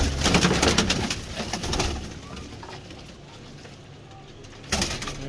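Golden king pigeons coo softly in low, throaty bursts, close by, with some rustling and noise in the background.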